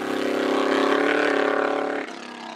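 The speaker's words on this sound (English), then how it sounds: "the 400 horsepower small block Chevy really comes into its own" A 400 hp small-block Chevy hillclimb race car at Gurston Down holds a loud, sustained engine howl that climbs steadily in pitch, then drops sharply as the car lifts off near the end.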